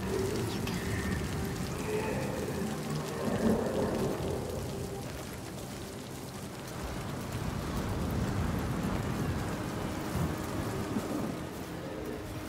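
Steady heavy rain pours through a stormy Icelandic shore scene in Hellblade II, with low thunder rumbling beneath the downpour throughout.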